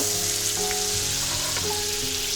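Butter sizzling and frying steadily in a pan as a mushroom sauce is started, a continuous close crackling hiss with faint utensil clinks.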